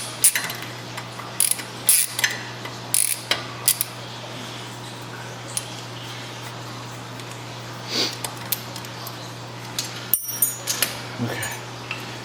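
Close mechanical clicks and ratcheting bursts from a T30 Torx driver backing out a brake rotor retaining screw on a car fitted with 034Motorsport two-piece rotors, irregular taps over a steady low hum in a garage.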